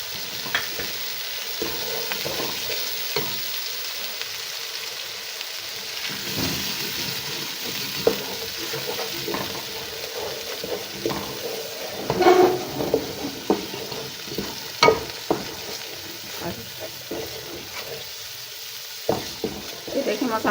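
Masala with poppy seeds frying in a pan for gobi kofta, a steady sizzle overlaid with repeated scraping and tapping stirs that grow busier midway.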